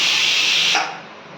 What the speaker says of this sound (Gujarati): બધું મિક્સરમાં ભૂકો કરી નાખીએ. ફટાફટ થઈ જશે.